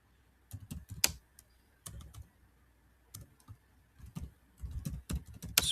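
Computer keyboard typing in irregular bursts of clicks and short runs of keystrokes, close and clear, with no voices heard.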